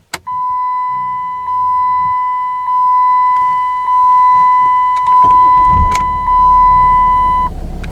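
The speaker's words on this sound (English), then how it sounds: "so we'll just power on the Chrysler." A 2006 Chrysler 300C with an electric driver's seat being powered on: a steady electronic chime repeats at regular intervals, small clicks and whirs sound inside the cabin, and a low engine or fan rumble swells up near the end.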